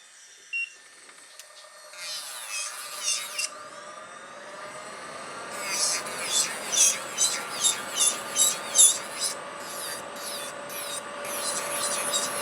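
Electric nail file grinding through gel nail colour, a thin high whine that builds with a run of rhythmic rasping passes near the end, close and moderately loud.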